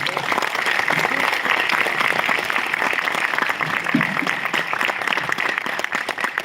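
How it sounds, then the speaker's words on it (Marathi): An audience claps steadily at the close of a yoga lecture on spinal disorders, with dense, sustained applause throughout and no talk over it. "जेवढं लेक्चर तुम्हाला मॅडमचं आवडले तितक्या जोरात आपण टाळ्या वाजवूयात"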